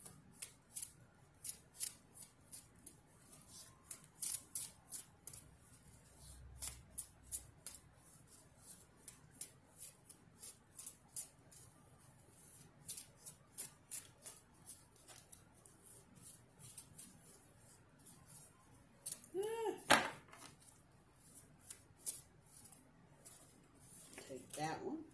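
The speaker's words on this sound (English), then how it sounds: "Y'all have watched me for 20 minutes shuffle these damn cards." Handmade, handwritten tarot cards are shuffled over and over, a run of quick, quiet riffling and slapping bursts, close but faint, with a few brief sounds of handling in between.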